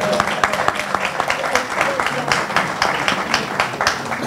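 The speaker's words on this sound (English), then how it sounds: "You can clap for that." Audience applause at a fireside chat with an 80-year-old guest, a steady patter of many hands clapping at moderate loudness, dense and continuous for a few seconds with no voices over it.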